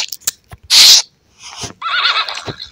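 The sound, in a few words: horse neighing in the video game Wild Horse Islands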